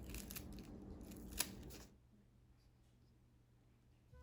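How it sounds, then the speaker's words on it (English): Scissors snip through flower stems below the twine of a holiday bouquet, a close, crisp cluster of cuts with one sharp snap, followed by a quiet room hush. "we're going to snip it now. Cut off the stems."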